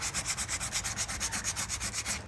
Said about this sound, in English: We just got this little bit left to go. With the 80 grade sandpaper.